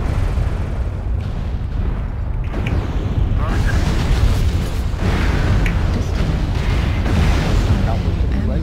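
A mech explodes in the MechWarrior Online video game, with heavy booming blasts and dense low rumble sustained throughout, punctuated by sharper bursts, and a voice speaking over the battle.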